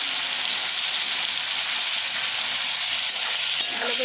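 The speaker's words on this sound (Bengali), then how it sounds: "উচ্ছেগুলো ভেজে নিয়ে নিলে তেতো আর থাকবে না এইভাবে ভেজে নেব" Bitter gourd sliced for a fish dish fries in hot oil with turmeric, a dense, loud, continuous sizzle close up that holds steady throughout, with a faint clink near the end.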